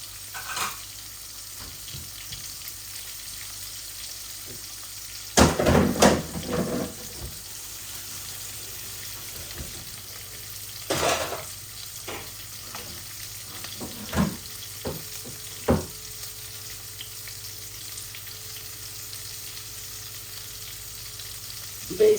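Panch phoron, cumin seeds and bay leaves go into hot oil for a rohu fish-head curry. A few short, sharp sizzling bursts rise over a quiet, low kitchen background.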